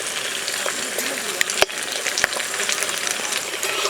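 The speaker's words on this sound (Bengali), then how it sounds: "এই চিকেনগুলো উল্টে দিলাম" Flipped chicken pieces frying in mustard oil, a continuous close sizzle broken by a couple of sharp utensil clicks, with faint talk mixed in.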